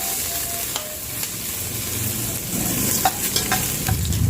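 Pork for sisig frying in a pan: a steady, close sizzle with light scraping and stirring clicks scattered throughout, growing slightly louder toward the end, with no talking.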